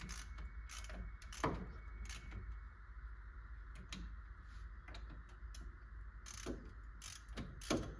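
Wheel bearing bolts on a 2011 Chevy Silverado are snugged with a ratchet, producing faint, scattered clicks and short ratcheting bursts over a quiet background hum.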